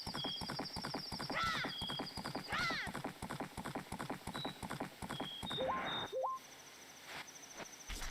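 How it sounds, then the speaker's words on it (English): Video-game horse in Zelda: Majora's Mask whinnying twice with rising calls over a steady, close clip-clop of hoofbeats, followed by brief game chimes and sound effects. "I am getting annoyed of the constant neighing"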